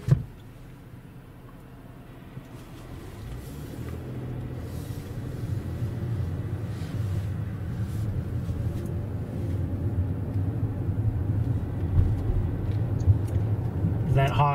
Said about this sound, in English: have to wait for a car